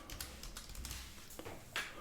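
Rapid clicking of keys on a Windows computer keyboard, a short burst of close, crisp keystrokes that are fairly quiet and heard alone with no talking.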